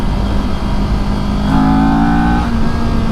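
A 2023 Kawasaki Ninja 400 motorcycle pulls hard in third gear around 45 to 50 mph, its engine droning steadily and rising in pitch midway, loud and continuous with wind noise.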